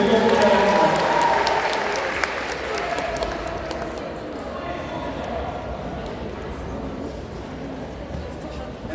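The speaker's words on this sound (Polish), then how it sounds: "Także wielkie brawa." Audience applause at a fursuit show during a convention stage event, loud clapping at the start that thins into scattered claps and crowd murmur, with voices over it.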